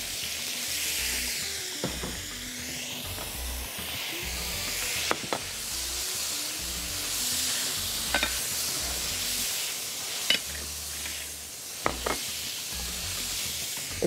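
Calamari and shrimp frying in a hot pan, a loud continuous sizzle with occasional sharp spits and clicks from stirring throughout.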